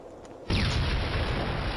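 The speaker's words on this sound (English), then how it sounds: "Incoming artillery!" Incoming artillery barrage in the Killzone shooter, an abrupt heavy boom that erupts into a loud, sustained rumbling roar of blasts lasting over a second.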